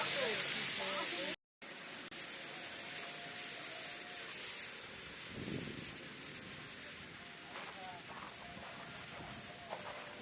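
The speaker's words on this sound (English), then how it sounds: "So you can see the 3 blowers are still blowing." Three air blowers inflate a floating water park slide outdoors, a steady loud rushing hiss that runs throughout with a brief dropout near the start and a few faint knocks and background sounds.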